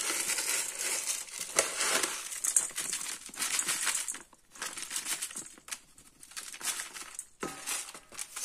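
Dry paleo bread mix pours and rustles out of a crinkling bag, a loud close shower of granular hiss with crumpling plastic and brief pauses.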